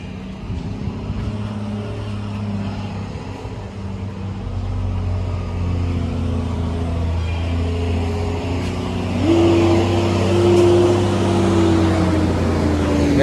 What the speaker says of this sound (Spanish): vean cómo bajan las tractomulas acá, suave